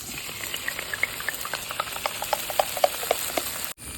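Onion, capsicum, ginger-garlic and sauces for chilli chicken are stirred in a pan, giving a soft sizzle beneath a string of light, regular scraping clicks from the spoon, close and fairly quiet, ending in a brief cutoff.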